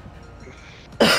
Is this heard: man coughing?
yes